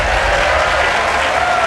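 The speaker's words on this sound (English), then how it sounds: "don't be afraid to clap or cheer" A crowd at NASA's OSIRIS-REx asteroid sample reveal breaks into loud, dense applause, a brief continuous roar of clapping close by with no talk over it.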